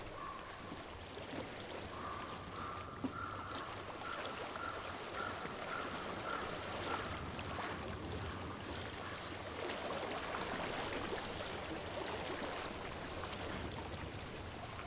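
Water flows steadily in Hellblade: Senua's Sacrifice, a continuous broadband rushing and trickling that carries on evenly throughout with no voices over it.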